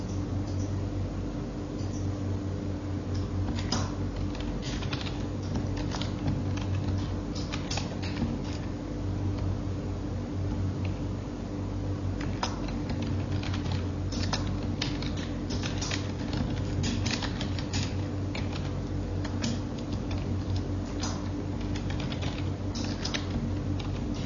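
A computer keyboard is typed on continuously, soft irregular key taps over a steady low background hum, with no voices.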